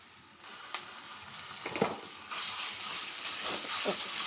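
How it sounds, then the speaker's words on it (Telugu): Ginger garlic paste fries with onions in a pan for a mushroom curry, a steady close sizzle with a few stirring scrapes and clatters breaking through. "అల్లం పేస్ట్ కూడా పచ్చివాసన పోయే వరకు అయితే ఫ్రై చేసుకుందాం"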